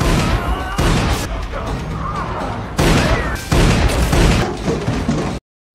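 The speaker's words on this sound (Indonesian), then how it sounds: "hingga terjadi saling baku tembak antara kedua anak buah Axel" Loud, dense bursts of gunfire and crashing impacts fill a film shootout between two groups of henchmen, with two sharp jumps in intensity before the sound cuts off abruptly.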